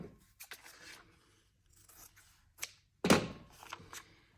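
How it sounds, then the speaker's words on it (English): Scissors cutting a piece of background fabric for foundation paper piecing, several crisp snips and slides spaced irregularly, close and fairly quiet with no talk. "So I'm just cutting a piece out of my background fabric, a little bit bigger than what I'm sewing"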